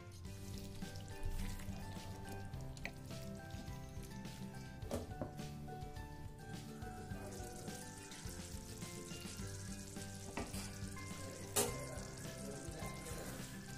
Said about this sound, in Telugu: దీన్ని మూత పెట్టుకొని ఒక 5 నుంచి 6 నిమిషాల సేపు మీడియం ఫ్లేమ్లో ఉడికించుకోవాలండి. మధ్య మధ్యలో కలుపుకుంటూ ఉండాలి మాడకుండా.